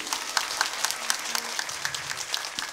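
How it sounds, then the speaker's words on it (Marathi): Applause from women in the audience at a devotional kirtan, a dense patter of many hands clapping steadily, moderately close, with no voices over it. "माता वर्ग टाळी."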